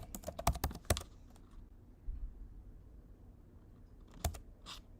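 Quick clicks on a computer keyboard, a short burst of sharp close keystrokes, a quiet pause, then a few more taps, all faint and without voices.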